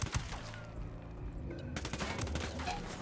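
Gunfire erupts in the Ghost Recon Wildlands video game, a dense volley of shots crackling and booming close by, continuing in rapid bursts through the whole stretch with no voices over it.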